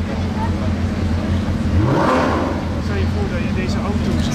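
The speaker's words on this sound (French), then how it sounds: "Ça c'était une SVJ qu'on vient d'entendre." A Lamborghini Aventador SVJ supercar revs as it passes on the street, its engine note rising and sweeping by while people talk nearby.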